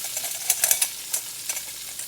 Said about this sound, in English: We are going to add in our onions.